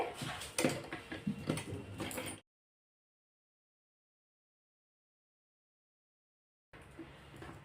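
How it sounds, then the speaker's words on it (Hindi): A sewing machine stitching the collar of a coat-collar blouse gives a rapid, close mechanical clatter for about two seconds, then cuts to dead silence before the whirring resumes briefly at the end. "इस कोने से सिलाई लगाएंगे। इस तरह सिलाई लगा के इसको तैयार कर लेते हैं पहले।"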